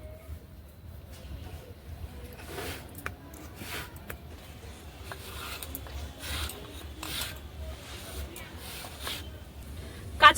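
Green chillies are ground on a stone slab, with intermittent scraping, rasping strokes, some louder bursts and a faint steady background hum.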